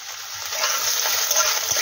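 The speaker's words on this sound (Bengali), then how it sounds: "পেঁয়াজটা একটু ভাজবে, লাল লাল হবে।" Chopped onion sizzling in hot mustard oil in a kadai with whole garlic cloves, a steady, close, broadband hiss with faint crackles throughout and no talking.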